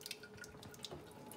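Water from a lab sink tap runs and drips steadily into the basin, a faint, continuous wet trickle close by with small splashy drops scattered through it.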